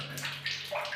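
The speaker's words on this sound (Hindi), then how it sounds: "पानी की आवाज़ आप सुन सकते हैं। तो ये टुका टुका गिर रहा है" Water trickles and splashes from a leaking spindle on an underground gate valve, a brief run of soft drops and gurgles over a faint steady hum.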